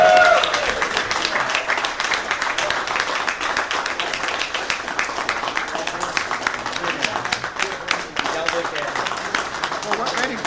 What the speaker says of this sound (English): So let's stand and give Ed a big round of applause.